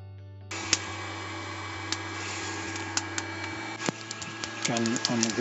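A home coffee roasting machine runs with a steady low hum and a broadband whir. Scattered small crackles and ticks from the roasting beans build toward the end.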